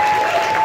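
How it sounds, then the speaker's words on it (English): Party guests at a surprise 40th birthday party clap in steady, dense applause, close and loud throughout a short burst, with no talk over it. "Well, that's a big round of applause for Jonathan and Mandy"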